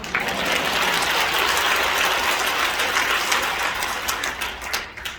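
Sustained applause fills a Korean church thanksgiving service for a new church council leader, a dense, even wash of many hands clapping at once, loud and unbroken before easing slightly near the end.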